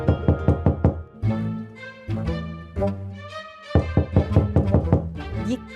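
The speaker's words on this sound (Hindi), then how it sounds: "ये कौन पागलों की तरह दरवाजा बजा रहा है इस टाइम?" Someone pounds loudly on a house door with a rapid burst of sharp knocks, pauses briefly, then resumes with another insistent flurry, close and forceful over tonal background sound.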